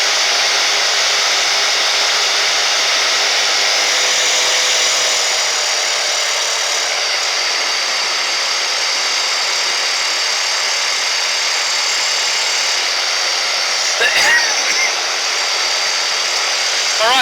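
A small airplane's engine drones loud and steady through a landing and takeoff on a runway at night with the lights on, a constant broad roar with a brief knock near the end.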